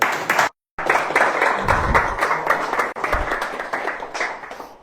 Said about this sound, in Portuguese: As palmas ao Senhor Jesus